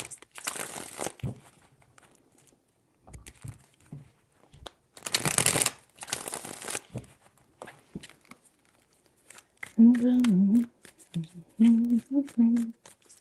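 A deck of tarot cards is shuffled in three bursts of riffling and crinkling, close and crisp. A voice speaks briefly near the end.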